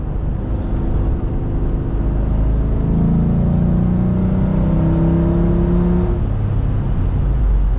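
A Mercedes ML55 AMG with Bosch ME 2.0 engine management pulls hard under full throttle, a loud, steady engine roar heard from inside the cabin whose pitch climbs through the gear, then eases near the end.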